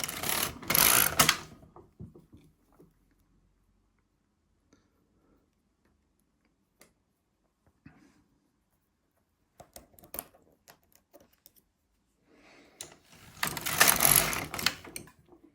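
A knitting machine carriage runs across the needle bed in two loud clattering, whirring passes at the start and end, separated by a long quiet stretch with scattered small clicks.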